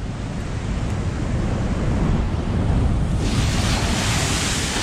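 High ocean waves crashing at Pacifica along Beach Boulevard, a loud continuous roar of surf mixed with heavy wind buffeting the microphone, building into a brighter rush of breaking water toward the end, no talking.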